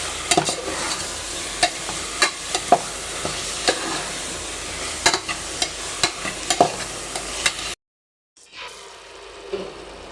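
Chopped tomatoes and ginger garlic paste frying in oil for biryani, stirred with regular scraping spoon strokes over a steady sizzle, close and clear; the sound cuts off abruptly near the end.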